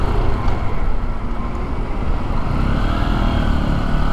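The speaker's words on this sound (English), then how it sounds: "Damn, garbage truck." A garbage truck drives past a rider on a small XR150L motorcycle near a beach, its loud, steady low engine rumble blending with road and wind noise throughout.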